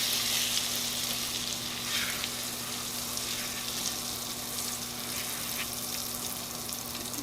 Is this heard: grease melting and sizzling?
yes